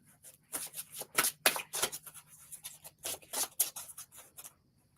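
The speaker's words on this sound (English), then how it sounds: "Shuffle one more time." Playing cards are shuffled several times during a color reading, giving close, crisp riffling and rubbing bursts in uneven rhythm with brief pauses between them, with no talk over it.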